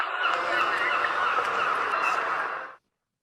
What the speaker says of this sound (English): what kind of bird is that? Seagull.